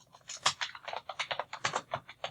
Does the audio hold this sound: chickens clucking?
no